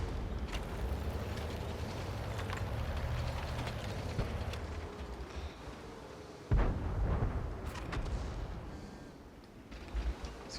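World of Tanks battle with the Turan III, heavy tank cannon fire and engine rumble filling the scene, one sharp close blast standing out among distant booms, no speech.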